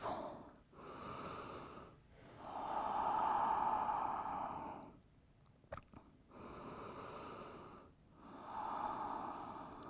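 Slow, deep breaths during a yoga child's pose, each long airy inhale or exhale swelling and fading in a calm rhythm, close and quiet with short pauses between.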